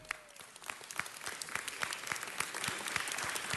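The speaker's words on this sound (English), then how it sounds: "Let's give them a big round of applause" A city council chamber breaks into applause for Girls Who Code students standing up: clapping starts sparse with distinct claps and thickens into a full, steady round from many people.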